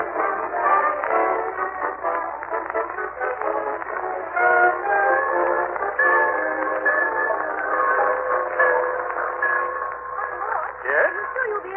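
A radio-drama railroad station effect plays in the Summerfield station, a steady rumbling train with long horn or whistle tones held over it, dense and continuous.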